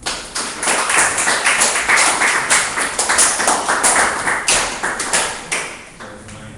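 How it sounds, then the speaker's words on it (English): Applause from an audience at a business event, a burst of rapid close clapping that swells and then thins out toward the end. "please put your hands together"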